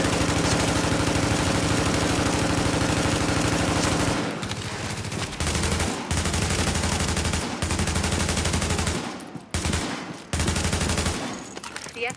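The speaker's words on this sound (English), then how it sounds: "The escort party's taking heavy fire from the roof." Sustained heavy automatic gunfire from a rooftop gunner in Tom Clancy's The Division, loud and continuous bursts with brief gaps toward the end, no talking over it.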